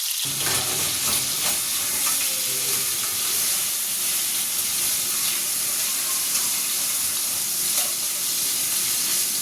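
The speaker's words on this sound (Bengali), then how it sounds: "এইভাবেই যতগুলো চিকেন আছে সব কটাকে ভেজে নেবো" Chicken pieces fry in hot oil in a kadhai with a dense, continuous, loud sizzle and hiss that holds steady from start to finish.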